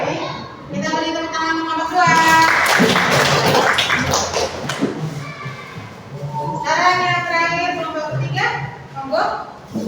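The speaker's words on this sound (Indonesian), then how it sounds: "kita beri tepuk tangan untuk nomor 2" Students in an Islamic religious education class applaud the second presenter with a short burst of hand clapping that rises between stretches of children's and adults' talk.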